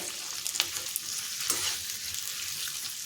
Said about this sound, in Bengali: এখন পেঁয়াজ আর ক্যাপসিকামটা ভেজে নিতে হবে